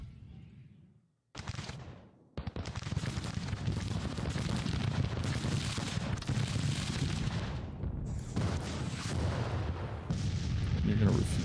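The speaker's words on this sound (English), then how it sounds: "My cannons do appear to be in action." Cannon artillery in a Grand Tactician Civil War battle at Richmond, a sustained rumbling barrage of booms and distant gunfire rolling continuously after a brief quiet start, with a voice faintly beneath.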